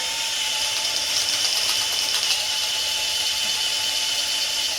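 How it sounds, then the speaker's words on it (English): A power drill whirs steadily and continuously up close, a high-pitched grinding whine with slight fluctuations as it bores through the sidewall of a tire. "drilling through the side of this tire"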